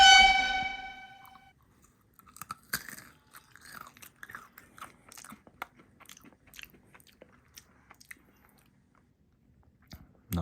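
Takis Hot Nuts, spicy snack nuts, crunched and chewed close to the mouth in a series of short, sharp bites and crunches spread unevenly across the clip, with a tonal horn-like sound at the very start.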